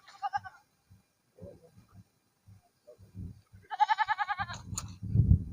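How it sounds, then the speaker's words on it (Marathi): Goats on a farm bleat in two clear bursts of quavering calls, the second longer and louder, with faint shuffling and scattered low knocks between and a rumbling thump near the end. "बकरा आहे तिथं."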